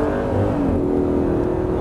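A car engine revs up close and loud, its pitch climbing and then holding steady.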